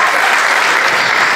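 Steady, full-bodied audience applause fills a Polish stand-up comedy show in 2019, a continuous dense clapping roar with no breaks over its short span.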